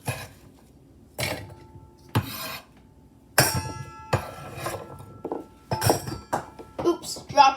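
Chopped vegetables are scooped and dropped into a mixing container, giving several sharp clinks and clatters of utensil against dish in irregular bursts, close and fairly loud, with quiet gaps between.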